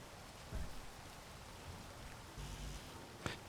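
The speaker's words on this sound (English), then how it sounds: "And we're working in the rain." Steady rain falls in the Space Engineers video game, a soft continuous patter with a few louder gusts and one sharp drop-like tick, with no voices.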